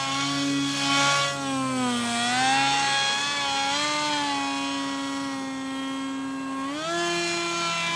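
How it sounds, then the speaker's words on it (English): An Esprit Model Opale hybrid 1.8 model paramotor's engine runs at about half throttle, a steady high-pitched buzzing whine that wavers in pitch as it flies, heard alone without talk. "So are you full throttle there, Jason?"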